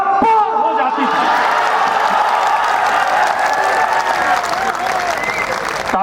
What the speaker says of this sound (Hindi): तालियां कम देर तक बजी